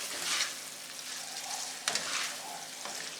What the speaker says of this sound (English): let's give this a quick stir. You can see the ground beef cooking nicely here